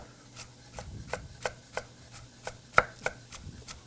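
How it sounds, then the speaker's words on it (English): Carrots diced with a knife on a cutting board for a Cajun crawfish corn chowder: a run of about a dozen crisp, evenly spaced chops, close and clear, with one sharper knock near the end. "get our carrots diced"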